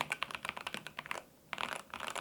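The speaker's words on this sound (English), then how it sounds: "how Tecware achieves such quality, milky, clacky sounds from the keyboard" Typing on a Tecware Phantom+ Elite mechanical keyboard: quick runs of clacky keystrokes, close and crisp, with a brief pause in the middle before the rapid tapping resumes.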